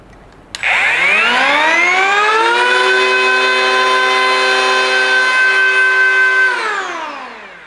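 A PUMA 20V cordless power tool motor with soft start spins up smoothly with a rising whine, holds a steady high-pitched hum for several seconds, then winds down.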